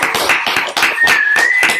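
Applause at a virtual graduation ceremony, heard as dense, rapid clapping, loud and close, that continues without pause as if from a few people on unmuted microphones.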